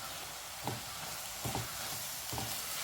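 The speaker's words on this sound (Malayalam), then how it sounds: "എന്നിട്ട് നമുക്കൊന്ന് ഇളക്കി കൊടുക്കാം" Chopped spinach sizzles softly in a pan, with three distinct stirring strokes at even intervals rising out of a quiet, steady hiss.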